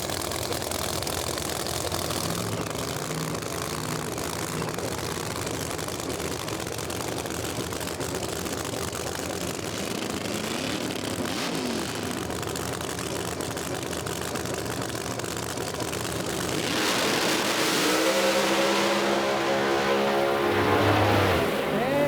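A blue supercharged Camaro and another drag car rumble at idle on a no-prep strip at Las Vegas Motor Speedway, steady engine noise building into a loud, roaring launch near the end.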